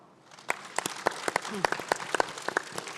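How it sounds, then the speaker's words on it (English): A small audience claps steadily for a few seconds, sharp hand claps ringing out close and loud, with a brief voice underneath. "Give them an applause"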